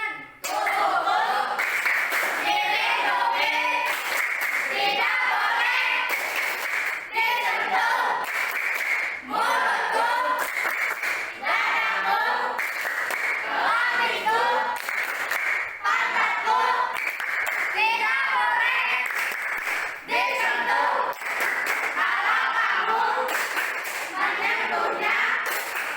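Children chant a rhythmic clapping rhyme about child protection and body safety, voices in unison over steady hand claps, loud and continuous throughout.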